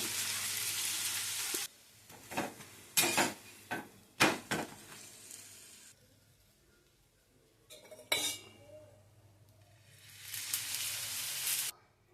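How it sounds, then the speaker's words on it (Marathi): Mixed-flour thalipeeth frying in oil on a pan, with bright sizzling that swells and fades around several sharp clinks and scrapes of a spatula against the pan. "आता त्या चांगलं शेकून घ्यायचं तेल टाकून मस्तपैकी."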